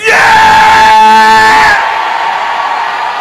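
A church congregation at a Haitian service shouts loudly together in reply to a pastor's call. The sustained roar of voices stops abruptly and leaves a fainter, lingering crowd murmur.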